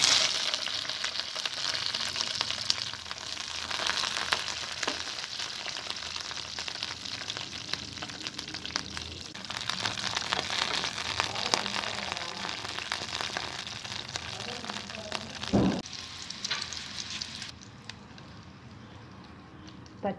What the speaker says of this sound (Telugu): పచ్చిమిరపకాయకి ఘాట్లు పెట్టుకొని ఫ్రై చేసుకోవాలి.